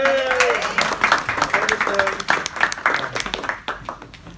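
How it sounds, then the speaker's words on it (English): An audience breaks into steady clapping and applause at an anti-bullying youth event, with cheering voices and talk mixed in over the clapping. "Give Alex a round of applause."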